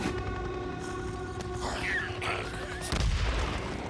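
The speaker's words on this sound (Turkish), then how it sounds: "Şuraya şöyle bir bomba atayım" A bomb is thrown into a cave holding a zombie horde near Hot Springs in the video game Days Gone, and it detonates as one deep, heavy boom near the end, over a steady in-game ambience.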